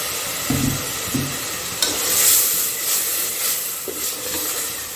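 Ginger, garlic and tomato sizzle loudly in a hot pan while a spoon stirs and scrapes a few times, with a steady hiss underneath and no talking.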